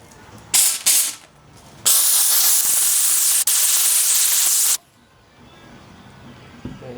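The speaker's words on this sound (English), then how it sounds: "Take some Goo Gone onto a towel and just spray it." Goo Gone cleaner sprayed from a trigger bottle onto a towel near a Porsche 987 Cayman: two short close hissing bursts, then one long steady spray lasting about three seconds before stopping.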